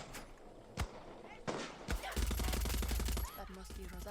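Rifle fire in the video game Far Cry 6 rings out in a couple of single sharp shots, then a rapid automatic burst lasting about a second, followed by scattered quieter game sounds.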